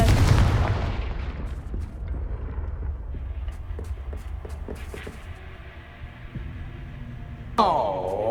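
A Confringo fire spell bursts in the video game Hogwarts Legacy with a heavy, booming low blast that fades into a rumbling tail. Scattered clicks follow, then a ringing, swooping magical tone near the end.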